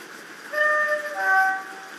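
In a train simulator game, a Class 68 locomotive hauling an ore wagon sounds a two-tone horn over a low rolling rumble, the horn blasts clear and fairly close.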